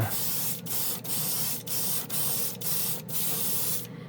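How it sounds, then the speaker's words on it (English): Chrome spray paint hisses from an aerosol can onto a marble spoon in six short bursts, each a second or so long, separated by brief pauses. "let's spray it on one of my marble spoons here"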